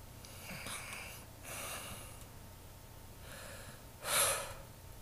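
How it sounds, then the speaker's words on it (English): A girl breathes softly in her sleep, a few slow breath bursts spread across a quiet stretch, with one louder, sharper breath near the end. "I can hear her happily breathing in her sleep."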